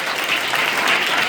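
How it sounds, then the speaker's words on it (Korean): Dense, even applause of encouragement from a church congregation at a young adults' joint worship service, close and sustained throughout. "우리 격려의 박수 한번 부탁드립니다"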